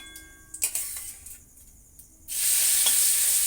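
Spices and chillies hitting a hot pan, a few clinks and stirring scrapes followed by a sudden bright, steady sizzle that carries on to the end.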